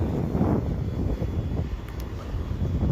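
An FMS P-47 Razorback RC model warbird, 1500 mm, taking off from a grass strip in wind; a steady electric motor drone with wind rumble on the mic, fairly close and even in level.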